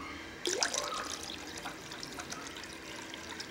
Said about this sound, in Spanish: Vamos a agregar agua.